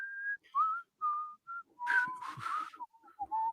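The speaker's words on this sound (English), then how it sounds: "can't whistle anymore." Someone tries to whistle, producing a string of short, wavering tones that break off and restart, with breathy puffs of air between attempts, close and fairly quiet.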